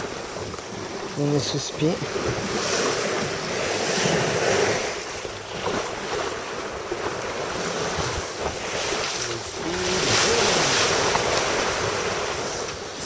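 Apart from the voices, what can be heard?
wind at sea on a sailing boat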